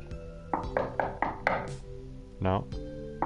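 Knocking on a drawer in the video game PantsuHunter: four or five quick, hollow knocks in a row over game music, followed by a brief voiced sound.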